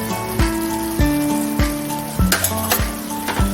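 A coconut mixture with cardamom and a pinch of salt is sautéed in a pan for coconut wadi, giving steady sizzling with rhythmic scrapes and knocks of a spatula about every half second, close by.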